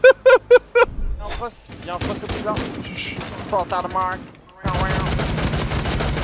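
Gunfire in a multiplayer shooter video game: a quick burst of loud shots, then a busy stretch of in-game firing and effects under excited voices, ending in dense continuous sound.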